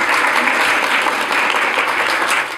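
An audience claps loudly and continuously after a branding presentation. The dense, even applause fills the space and tapers off slightly at the end.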